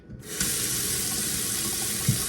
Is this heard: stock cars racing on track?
no